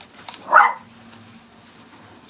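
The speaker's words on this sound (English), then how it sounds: "that's my dog." A dog at home in a kitchen lets out a single short bark, close and clear against a quiet room, followed by a brief word of speech.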